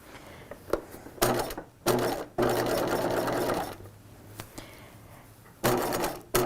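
A sewing machine stitches a 3/8-inch seam on a 1950s-style shelf bust dress in loud, close bursts of rapid whirring, broken by short pauses and small clicks as the fabric is handled.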